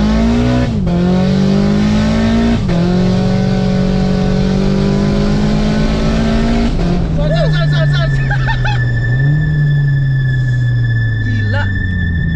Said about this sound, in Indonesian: Ini kayak ngerasa mesinnya itu putaran mesinnya, terus suara dari wastegate-nya